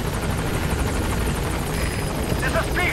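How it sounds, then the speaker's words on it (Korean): A support helicopter from the Metal Gear Solid V video game arrives at a landing zone, its steady rotor and engine roar filling the scene continuously, with a voice talking over it. "Support helicopter has arrived."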